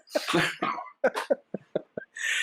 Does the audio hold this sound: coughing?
yes